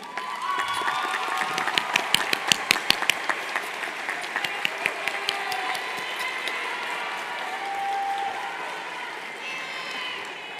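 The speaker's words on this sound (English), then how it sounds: "give a big round of applause to all the amazing support systems that are here with us today" A large crowd of graduates and guests at a City Neighbors High School graduation ceremony claps loudly and steadily, with scattered cheers and sharper individual claps rising above the dense applause before it gradually thins out.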